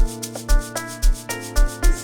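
Piano chords from FL Studio Mobile, in an amapiano beat, repeat in a steady pulsing rhythm, with thumping low hits under each chord, loud and close with no talking.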